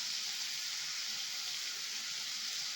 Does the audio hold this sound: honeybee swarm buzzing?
no